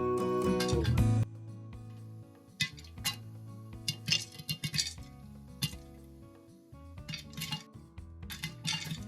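Popcorn kernels pop inside a metal pressure cooker, scattered sharp ticks and clinks at an irregular pace after a brief low rumble, fairly quiet overall.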